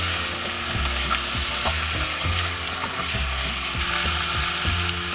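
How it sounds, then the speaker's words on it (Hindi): Chicken pieces fry with vegetables and black pepper in a pan, a close, loud continuous sizzle broken by repeated scraping and stirring strokes, with no voices. "वेजिटेबल्स के साथ हमें चिकन फ्राई करना है।"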